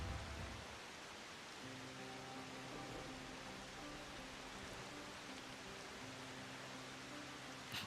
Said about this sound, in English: We're just chilling in the rain, as old men do.